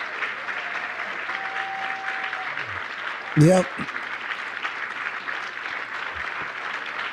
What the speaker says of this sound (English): These people are clapping for good on you